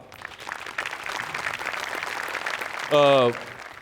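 An audience claps through most of the moment on a Marathi comedy show stage, a dense steady patter of applause, with a short voice-like tonal sound rising over it near the end.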